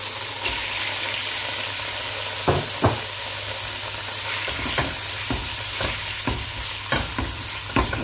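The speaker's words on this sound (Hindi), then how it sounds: "और इसको हम अच्छी तरह से फ्राई कर लेंगे।" Chicken pieces frying in about six tablespoons of melted butter, a steady bright sizzle close up with several sharp spatula scrapes and stirring knocks against the pan, no voices.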